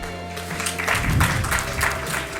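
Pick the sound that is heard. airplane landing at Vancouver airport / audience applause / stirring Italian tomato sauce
audience applause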